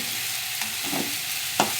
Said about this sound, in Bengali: পেঁয়াজগুলি আর আলুটা ভাজা হয়ে এসছে আর একটু ভেজে নেব